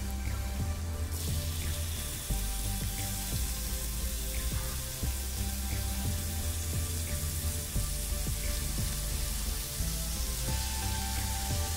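Oysters sizzle steadily in masala in a pan for a traditional Malvani oyster fry, a continuous close, bright frying hiss with small pops and stirring clinks throughout.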